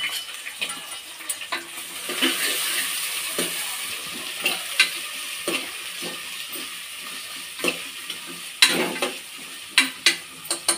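Onions and green chilies sizzle steadily in hot oil for a Telangana-style curry, with a constant bright hiss and frequent scraping and clinking stirring strokes in the pan. The sound is close-up and continues throughout.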